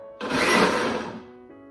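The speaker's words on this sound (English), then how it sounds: "So I'm just going to do a quick swirl of the blender" A blender gives one quick pulse through soaked African beans: a loud, close whirring burst of about a second that starts abruptly and then winds down.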